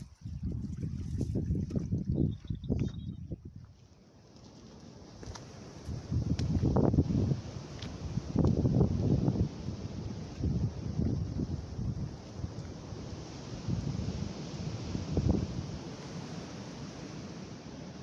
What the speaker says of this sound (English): Every day we seem to have trouble with the wind.